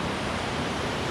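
Waterfall in Fiordland bush, a steady broadband rushing roar of falling water, continuous and even with no other sounds.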